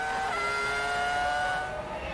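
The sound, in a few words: Ferrari Formula 1 car leaving pits, accelerating hard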